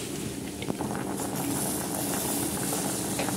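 Pasta boiling in a pot of water on a gas stove, a steady close bubbling hiss and rumble throughout, with no voices.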